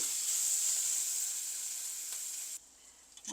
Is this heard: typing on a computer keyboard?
no